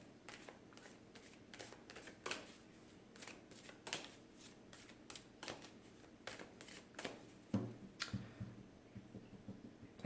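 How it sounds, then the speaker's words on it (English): A tarot card deck being shuffled, with quick, soft riffling clicks and snaps repeating irregularly at close range, fairly quiet. "I felt like we needed to shuffle the deck a little bit more"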